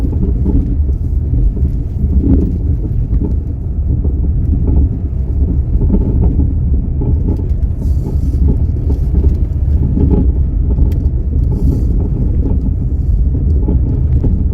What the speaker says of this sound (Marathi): समोरून येते गाडी.